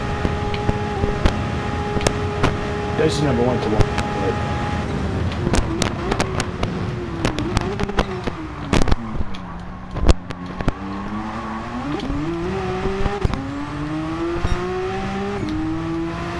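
A 1980s Porsche 962 race car at full throttle, engine revving hard and climbing through gears with rising, falling pitch, loud and close for a long stretch, with a brief spoken remark.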